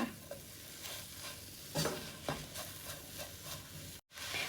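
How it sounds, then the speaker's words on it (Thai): Tuna filling for tuna buns being stirred and mixed in a bowl: soft, continuous scraping and squelching with occasional louder strokes, close and quiet, then a brief dropout near the end. "คลุกเคล้าให้เข้ากันอีกครั้งหนึ่งนะคะ เนื้อมันจะได้ดูเยอะๆนะคะ"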